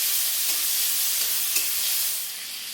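Tomatoes frying on a low flame for chutney give a steady, dense hiss with a few soft stirring knocks, close and continuous, easing slightly at the end, no voices.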